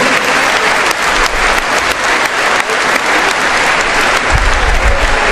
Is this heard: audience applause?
yes